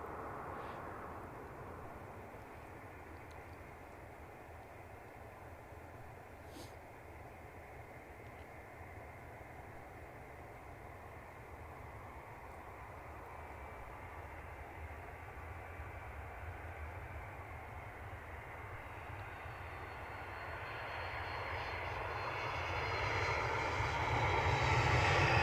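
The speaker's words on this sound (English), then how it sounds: "inbound this aircraft from New York Newark Airport" A jet airliner inbound from New York Newark approaches Edinburgh airport, a distant broad roar that holds steady, then swells louder and brighter over the final seconds as the plane draws near, with no talk.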